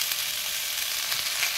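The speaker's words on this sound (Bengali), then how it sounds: "আমার কপি ডাঁটাগুলো প্রায় ভাজা হয়ে গেছে।" Cauliflower stalks frying in a pan for a vegetarian chochori, a dense continuous hiss of hot oil sizzling close up, steady and unbroken, with no voices.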